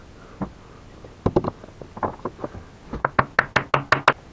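Sharp metal taps on the fifth gear of a VAZ 2110 gearbox, loosening the gear during a bearing replacement; a scattered series of knocks gives way to a quicker, louder run of strikes, close up with no speech.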